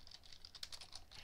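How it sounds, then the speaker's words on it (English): Rapid keystrokes on a computer keyboard during an online game night chat, a quick irregular run of clicky taps, fairly faint and close, with no talking. "I was typing in Discord."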